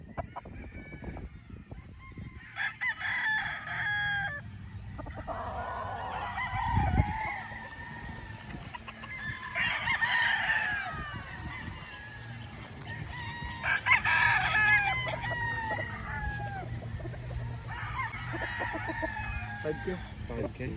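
Sweater-breed gamecocks on a game farm in Tanauan, Batangas crow repeatedly, several loud cock-a-doodle-doos spaced a few seconds apart with clucks and soft talk between.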